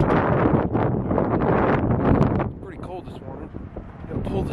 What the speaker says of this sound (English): As you can see, it's pretty windy outside.